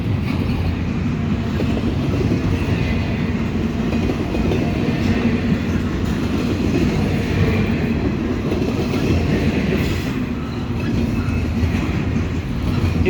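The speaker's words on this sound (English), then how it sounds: "He's got a big long intermodal train that's just clearing the siding" A long Norfolk Southern westbound intermodal freight train hauled by Dash 9 locomotives rumbles steadily past at close range near West Seven Mile, Ohio, a continuous heavy roar of wheels and rail noise with faint clatter, no voices.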